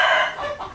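Meat chickens crowing and clucking together in a continuous, fairly loud burst with no voices.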